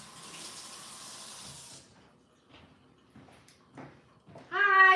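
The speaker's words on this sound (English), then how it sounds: "Let me wash my hands, because I'm a hand washer." Tap water running steadily for a couple of seconds while hands are washed, then shutting off, followed by soft scattered knocks and a loud voice at the end.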